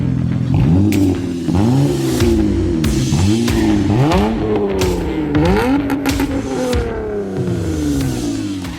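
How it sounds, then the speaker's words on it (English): A 2004 Honda Accord engine revs hard and repeatedly, with loud, close, rising sweeps that fall back between bursts, the rhythm of quick throttle blips and gear changes, and no voices. "2004 Honda Accord from the Automotive ADHD Car Sound Archive"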